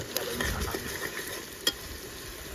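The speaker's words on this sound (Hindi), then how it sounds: "तो मसाले में भून देंगे थोड़ी देर ना" Quiet sizzling of chicken frying with spices in a pan, with soft scraping and occasional clinks as it is stirred.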